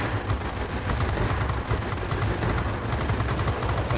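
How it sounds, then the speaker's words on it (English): Rapid 20 mm aircraft cannon fire in the World of Warplanes flight game, a continuous dense rattle over a steady engine roar, fairly quiet and unbroken throughout. "Get those 20 mil cannons to be hitting hard."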